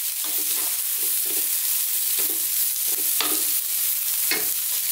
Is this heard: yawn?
no